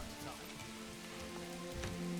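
Steady rain falls in the medieval village of the game Manor Lords, a soft continuous patter on surfaces with scattered light taps and faint background tones, no voices.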